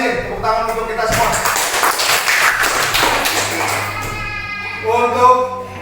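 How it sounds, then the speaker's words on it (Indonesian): A fifth-grade elementary school class claps hands together after a long jump lesson, a lively round of clapping in the middle bracketed by a teacher and children talking. "Tepuk tangan untuk kita semua."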